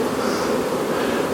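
Dense, continuous buzzing of many honey bees in a hive during late-March queen cell production, close and steady with no other sounds.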